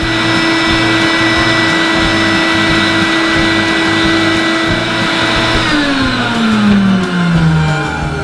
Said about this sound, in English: One of them old Electrolux vacuum cleaners.